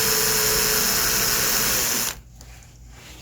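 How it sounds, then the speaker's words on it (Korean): A screw is power-driven into a door to bore a new hole, making a steady whirring grind for about two seconds. The grinding then stops abruptly, leaving near silence. "피스를 박아서 이쪽으로 최대한 힘을 주고 사라 길이로 새로운 구멍을 내주셔야 돼요."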